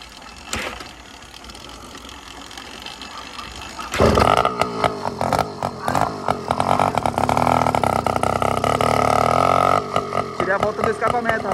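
A motorbike engine with its exhaust tip removed sputters, then bursts into loud, raspy, rapid revving that stays close and harsh for several seconds. A person talks over it.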